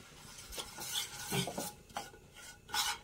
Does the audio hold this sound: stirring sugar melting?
yes